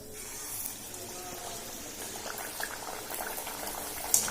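Chana dal dropped into hot oil gives a soft, steady bubbling sizzle, fairly quiet and even throughout, with a faint clink near the end and no talking.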